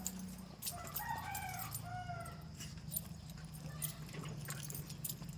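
Roosters crow outdoors at a farmyard, several drawn-out calls overlapping over a steady low background hum, moderately distant and not very loud.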